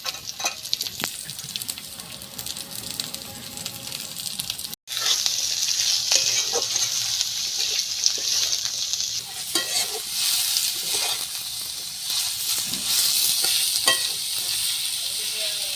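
Chopped carrot and beetroot fry in a pan for Kolkata-style vegetable chop, giving a steady loud sizzle with stirring scrapes. A brief cut comes near the start, then the sizzle grows brighter and continues alone.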